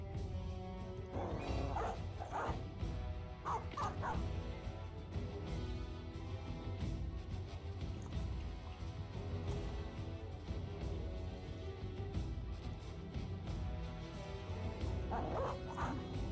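War dogs in the medieval mercenary game Battle Brothers bark, yip and whimper in repeated bursts across a noisy battlefield, loud and close at times, with steady fighting din underneath.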